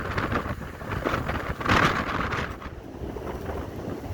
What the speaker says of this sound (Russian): Даже срывает верхушки волн ветром и летят брызги.